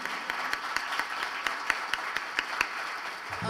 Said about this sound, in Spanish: Vamos a recibir al maestro Alfredo Gutiérrez con un fuerte aplauso